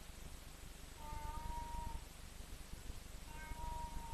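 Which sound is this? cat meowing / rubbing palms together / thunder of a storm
cat meowing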